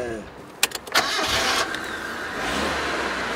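A Nissan Sunny with a 1300cc engine cranks with a few sharp starter clicks and turns over, then catches and settles into a steady idle hum, heard close by.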